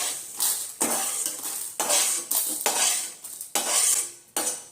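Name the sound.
transferring fried chutney ingredients onto a plate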